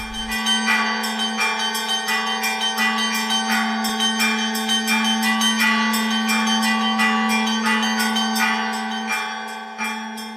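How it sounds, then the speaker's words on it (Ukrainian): Church bells pealing for Easter, a full loud ring of several bells struck in quick overlapping rhythm with a deep sustained hum underneath, continuous throughout and free of voices. "Увесь світлий пасхальний тиждень дзвонять в усі дзвони"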